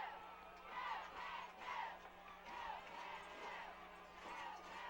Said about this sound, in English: Listen to this crowd, Chuck.